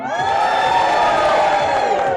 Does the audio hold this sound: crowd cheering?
yes